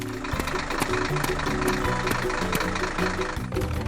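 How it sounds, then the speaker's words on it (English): Cartoon tractor engine running steadily as it plows an empty farm field, a continuous mid-low chugging drone with a bright tonal melody layered over it throughout. "Tractor enters the empty field and starts plowing."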